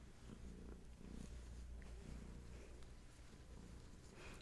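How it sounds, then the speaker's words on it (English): A cat purrs close and softly in a steady, rhythmic rumble that continues without pause in an otherwise quiet room. "Still purring."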